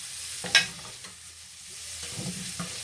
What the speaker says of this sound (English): delicious garlic aroma that's sizzling and cooking in here with the potatoes